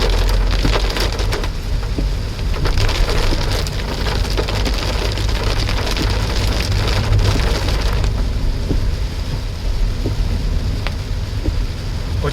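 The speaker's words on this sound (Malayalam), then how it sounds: "മഴ പിന്നെയും കുറച്ച് കുറഞ്ഞു." Heavy rain drums steadily on a car during a forest-area drive from Palode toward Trivandrum, a loud, continuous patter over low road rumble, staying dense throughout with no voices.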